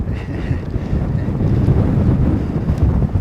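Strong wind roars and buffets against a shielded external microphone at an airport runway, a loud, continuous low rumble with gusty swells and no voices.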